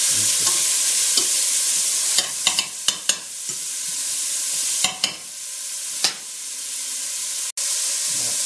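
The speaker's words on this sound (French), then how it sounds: "On rajoute les poivrons et on fait revenir 2 à 3 minutes tranquillement, en faisant attention que ça ne brûle pas." Bell peppers sauté with sausage in a pan for a rougail-style dish, a loud, continuous hiss of frying with bursts of scraping as a utensil stirs, ending in a sharp click; no one speaks.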